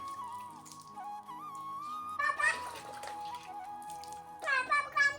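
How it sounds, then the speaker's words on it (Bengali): Water poured over a young girl during her bath comes in two splashing bursts, each roughly a second long, over a steady tonal background. "মেয়েটাকে নিয়ে চলে আসলাম স্নান করাতে"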